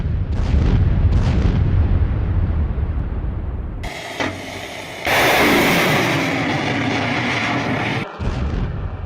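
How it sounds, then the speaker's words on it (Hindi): Six loud, rumbling blasts and booming bursts in a row pile up over continuous heavy noise, sounding like a series of distant explosions with crackling aftermath. "एक के बाद एक 6 धमाके हुए, बैक टू बैक 6 धमाके।"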